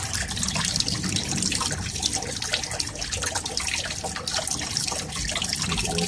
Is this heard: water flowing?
yes